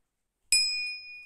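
A single bright notification bell ding rings out cleanly, struck once with a sharp attack and a sustained metallic tone that slowly decays, with nothing else heard.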